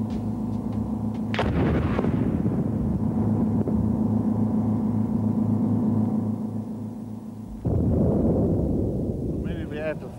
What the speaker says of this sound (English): the explosive knocks the concussion from the explosion, knocks the oxygen away